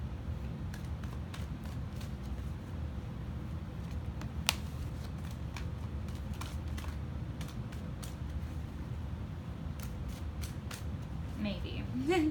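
Tarot cards being shuffled by hand in a reading, a soft continuous riffling with brief crisp snaps, close and fairly quiet, ending with a faint voice.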